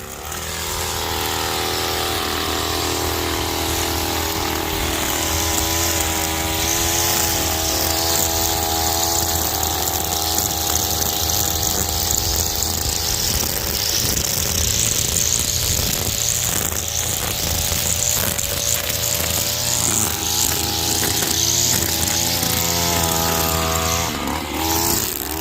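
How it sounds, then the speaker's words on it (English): String trimmer running continuously while cutting down weeds, a loud buzzing engine drone with a steady pitch and slight fluctuations as it works, close by and without talking. "weeds that I need to trim down, so I'll do that right now."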